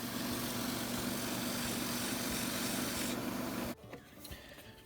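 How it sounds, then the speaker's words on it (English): Steady broadband whir of sandpaper pressed against a spalted maple pen blank spinning on a wood lathe, loud and continuous for several seconds before cutting off abruptly into quieter handling noises. "I'm just gonna be using sandpaper to take it down to its final shape"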